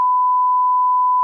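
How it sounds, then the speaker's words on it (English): A steady censor bleep tone, a pure beep lasting just over a second, loud and alone, masking a curse word on a comedy podcast. "He bleeped before the cuss word."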